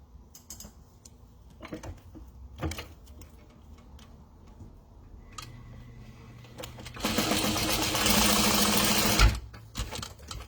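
A sewing machine top stitches down a folded fabric strap for a wallet: a few scattered clicks and creaks, then one steady, close whirring run of about two seconds before it stops.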